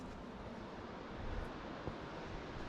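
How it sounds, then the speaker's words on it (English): Wind whipping through the area at Fall Creek Falls, a steady broadband rush, fairly faint and continuous with slight swells, no talking. "You can hear the wind whipping through there."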